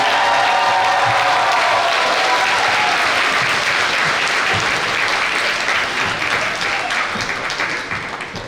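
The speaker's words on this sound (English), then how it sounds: "Let's give another applause for the class of" A crowd at the 2022 Unalaska High School graduation gives loud, sustained applause with dense clapping and some cheering, slowly fading toward the end.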